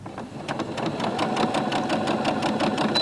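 An electric sewing machine runs steadily after being started with its push button, a continuous close mechanical whir with rapid regular stitching ticks throughout.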